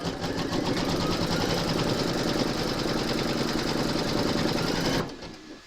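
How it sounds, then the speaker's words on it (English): An embroidery machine stitches a round on a quilted moon phases table runner, a loud steady rapid needle chatter running continuously for about five seconds before stopping abruptly and leaving a quiet tail. "Pop your hoop into your machine and stitch round number 3."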